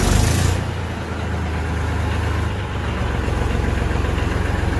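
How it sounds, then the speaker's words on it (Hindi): A diesel tractor engine fires up at higher revs, then quickly drops to a steady, close, loud idle with a low thrumming rhythm that continues to the end. "जैसे तो शुरू में ट्रैक्टर ज़्यादा RPM पे स्टार्ट होता है, फिर बाद में 700-800 के बीच में आकर रुक जाते हैं"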